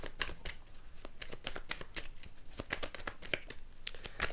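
Tarot cards are shuffled by hand in a steady run of crisp riffling and slapping, close and fairly loud, with no talking.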